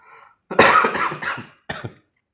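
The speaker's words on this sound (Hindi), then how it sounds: "सॉरी मुझे थोड़ी खांसी हो गई हुई है।" One person coughs close to the mic, first a harsh burst of several hacks and then a shorter follow-up cough, with silence between.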